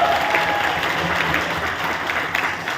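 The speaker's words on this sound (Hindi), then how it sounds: "तालियां बजाइए।" Crowd applause at a direct-selling company event, dense sustained clapping from a large audience, loud and steady throughout.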